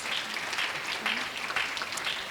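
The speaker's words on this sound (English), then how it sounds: "Would you please give them a round of applause?" An audience at a spring milestone celebration applauds the ECI team for their charcuterie refreshments, a moderate, fairly distant patter of clapping with faint murmuring underneath.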